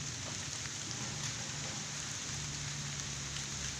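Rain falls outdoors as a steady, even hiss of drops hitting surfaces, continuous and fairly faint, with no voices.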